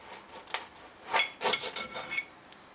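A lid goes onto a pre-1968 Revere Ware copper clad skillet holding a potato and onion frittata, giving a short run of light metallic clinks and clatters, close and clear, with no talking.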